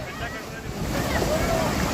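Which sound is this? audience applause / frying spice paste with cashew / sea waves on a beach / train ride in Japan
sea waves on a beach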